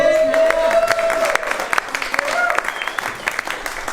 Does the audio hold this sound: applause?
yes